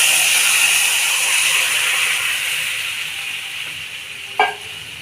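Boiled lentils dropped into spices frying in a pan, giving a continuous bright sizzle that slowly fades, broken near the end by one short sharp clack of a utensil.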